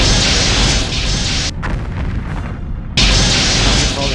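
A forward torpedo fires and detonates in a starship combat game, a Refit Constitution Class battling TIE fighters: a loud, sustained booming blast that cuts out briefly, then returns as a heavy rumbling explosion.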